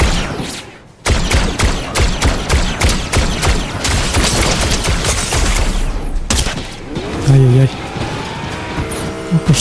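Rapid gunfire in a Fortnite Star Wars match rattles in dense volleys with vehicle and game noise underneath, pausing near the one-second mark and again around six seconds, while someone talks over the action.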